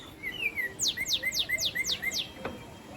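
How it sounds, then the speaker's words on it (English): A bird in a tree in Ohio chirps a quick run of about six bright, rising-falling notes, close and clear above a soft outdoor background, with a single sharp click near the end. "There is a bird into the tree."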